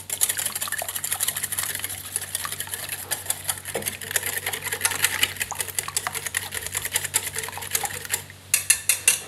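Eggs for clafoutis batter are whisked briskly in a bowl, giving rapid, continuous clinking and tapping that carries on throughout, then ends in a few slower, separate knocks.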